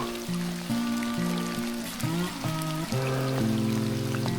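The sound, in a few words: heavy rain pouring down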